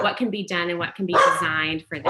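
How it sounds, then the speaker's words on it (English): A dog barks in short yapping bursts in the background of a virtual office-hour meeting while a person keeps talking over it. "I'm so sorry, apologies for the dog."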